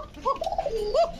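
Pigeon cooing from a red-and-white bird offered for sale, a few rising and falling warbled coos close by, clear and alone without talk.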